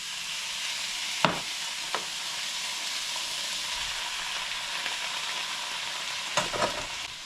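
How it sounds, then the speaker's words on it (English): Mushrooms and onions stir-frying together in a pan for pork fried rice give a steady, close sizzle, broken by a few sharp clinks of a utensil stirring. "Got the mushrooms added with the onions. We're going to pretty much stir fry this a bit"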